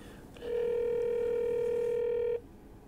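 A telephone ringback tone sounds as one steady electronic beep lasting about two seconds, clear and close against quiet background hiss.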